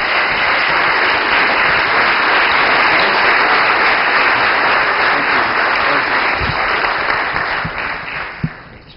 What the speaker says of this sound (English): we would like to introduce Father Spitzer, so if you can give him a big round of applause.